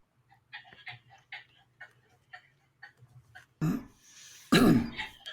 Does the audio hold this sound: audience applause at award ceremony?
no